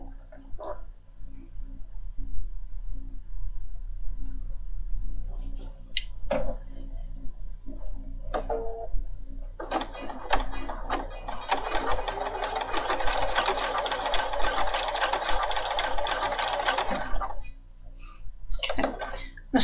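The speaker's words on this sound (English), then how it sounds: "What I'm going to do is stitch a little bit" A Bernina 500 series sewing machine stitches in a steady, rapid whir for several seconds, preceded by brief clicks and taps from setup and followed by short handling sounds at close range.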